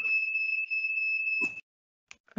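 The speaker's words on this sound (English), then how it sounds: "Somebody's fire alarm's going off." A home smoke alarm, set off by burnt toast, gives a steady, shrill, high-pitched tone for about a second and a half, then cuts out, followed by brief clicks and a faint voice.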